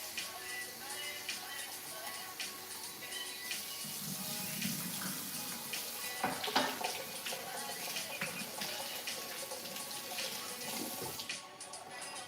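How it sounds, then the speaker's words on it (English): Tap water runs continuously while something gets a quick rinse, a steady splashing rush that holds at an even level for the whole stretch, with faint background noise but no clear speech. "I'm giving it a quick rinse"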